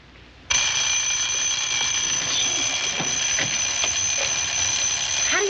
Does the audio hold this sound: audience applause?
no